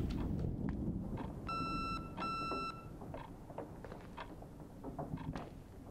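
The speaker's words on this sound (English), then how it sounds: "I know, it's beeping at me." Two short bursts of electronic beeping sound in the video game The Suicide of Rachel Foster, clear tonal pulses over a background of ambient noise and soft clicks.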